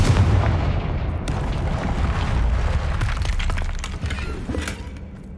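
A Confringo fire spell blast in the video game Hogwarts Legacy, a loud sustained booming burst with crackling, shattering debris that tapers off, heard alone.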